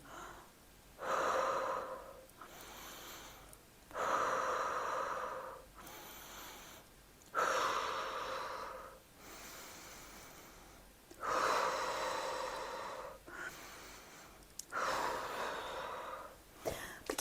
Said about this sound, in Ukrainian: Тепер кладемо руку і дихаємо тільки виключно животом.